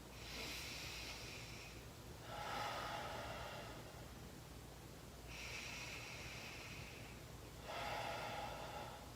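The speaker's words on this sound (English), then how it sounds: "can you take 3 deep breaths in for me?" Slow, deep breathing in and out, heard close and soft, with about four airy inhales and exhales alternating over a quiet background hum.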